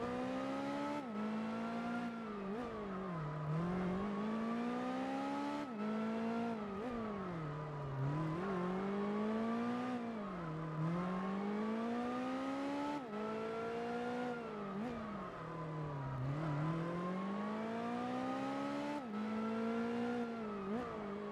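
A race car in Gran Turismo 4 roars steadily, its exhaust note rising and falling in repeated cycles of acceleration and shifting, loud and continuous with no speech.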